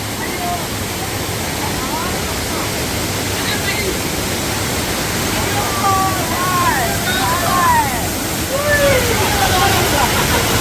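A waterfall at a Kozhikode resort in Kerala pours in a constant, loud rushing roar close by, while people talk over it.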